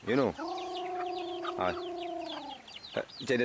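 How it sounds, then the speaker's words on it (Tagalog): Turkeys calling, with a long drawn-out harmonic call in the middle and shorter clucks and chirps around it, fairly close and loud. "Ayan pala guys yung mga alaga natin, pabo, andun yung kulungan nila."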